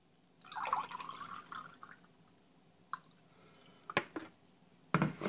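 Fermented peach and ginger kombucha, three days on fruit and ginger, poured into a small glass: a soft liquid trickle and splash early on, followed by a few sharp clinks and knocks of glass, close and fairly quiet.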